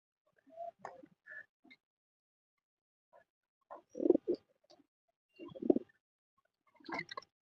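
Desi pigeons in a fancy pigeon loft give low, soft coos and murmurs in short separate bursts with quiet gaps between, fairly near and faint.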